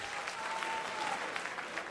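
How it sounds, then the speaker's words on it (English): A comedy club audience at a Def Comedy Jam show claps steadily and fairly loudly throughout, a dense wash of hands with a faint whistle and crowd noise mixed in. "Clap your hands if you got dogs."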